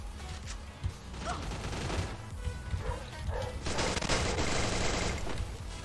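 Gunfire in the battle-royale game Free Fire: a dense, continuous fusillade of shots from across the map, loud and steady throughout, with a heavier burst near the end.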